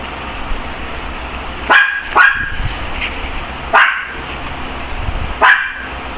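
Several loud, close barks from a dog indoors, coming in a quick pair and then spaced single barks over a few seconds, with low room hum between them.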